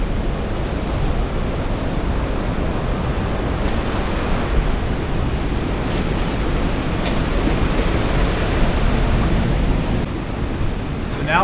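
Surf surging and washing steadily through a large sea cavern at Chin Beach on Vancouver Island's Juan de Fuca Trail, a dense, continuous roar of breaking water echoing close by with no voices.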